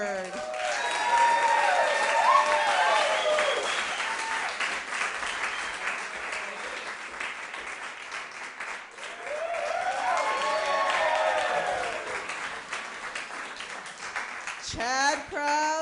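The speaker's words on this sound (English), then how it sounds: "please give a warm round of applause for legends of the stage and screen, Chad Krause and Basil Shaw III." A theater audience gives a warm round of applause for two stage performers. Dense clapping swells in two waves with vocal whoops over it, then fades near the end as a voice begins.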